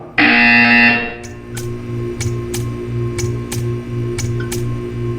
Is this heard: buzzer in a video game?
yes